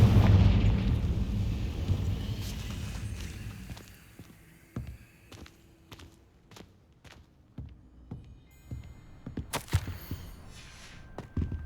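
Confringo fire spell exploding in Hogwarts Legacy on Xbox Series S: a heavy rumbling blast at the start that fades, followed by scattered sharp thuds and impacts.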